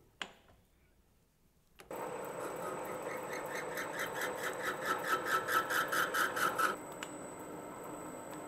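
After a brief quiet, a lathe hums to life, then a cutting tool rhythmically scrapes an internal grease groove, pulsing repeatedly for several seconds before easing back to the hum.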